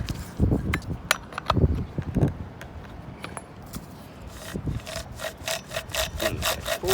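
A saw blade is run back and forth through wood, giving rhythmic rasping strokes that are close and clear and speed up toward the end, with no voices.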